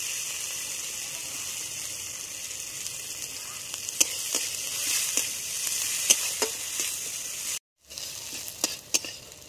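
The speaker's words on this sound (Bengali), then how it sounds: "এবার আমি পেঁয়াজ কুচি দিয়ে দেবো। পেঁয়াজটা ভালো করে ভেজে নেব।" Chopped onions frying in hot oil with cumin and bay leaf in a pan, a steady close sizzle with sharp crackles and occasional stirring clicks, briefly cut to silence near the end.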